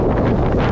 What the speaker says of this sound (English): Oh, it's so windy, but what a cracking view.